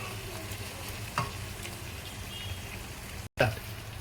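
Mutton being stirred with fried onions and yogurt in a pot for mutton dum biryani, with a steady close sizzle broken by scraping stir strokes and a brief silent gap.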